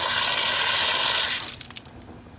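Water gushes steadily from a repaired outdoor hose bib at a house, loud and close, then cuts off as the valve is closed, leaving a few drips and trickles.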